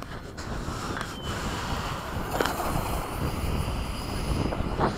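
Military jet aircraft taxiing out at an airfield, with a MiG-21, F-104 and BAE Hawk in the formation: a steady, continuous engine roar with wind buffeting the microphone, moderately distant and without speech throughout.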